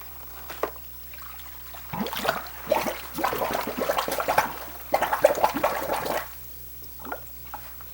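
A pump pushes water through plumbing in a large aquaponic greenhouse with a fish tank, a gurgling, sloshing rush that builds after a few seconds, runs steadily, then tapers to trickles over a low steady hum.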